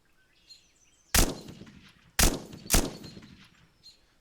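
Three sharp gunshots from a weapon in the shooter game Eminus, spaced about a second and then half a second apart, loud and close over a quiet background with faint chirps.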